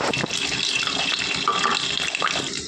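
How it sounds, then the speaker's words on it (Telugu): Three eggs hit hot oil in a pan for semiya egg fried rice, producing a dense close sizzle that keeps going steadily with small crackles. "ఆయిల్లో 3 గుడ్లు అయితే పగలగొట్టి వేసుకోవాలండి."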